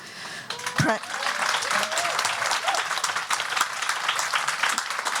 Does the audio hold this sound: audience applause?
yes